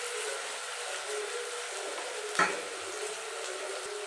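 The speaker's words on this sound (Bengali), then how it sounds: "পেঁয়াজটা একটু সময় নিয়ে ভাজতে হবে, যাতে কাঁচা কাঁচা না থাকে আর বেশি পুড়েও না যায়।" Onions sizzle steadily in a hot pan for a mutton curry, a constant close frying hiss with one brief louder clatter partway through.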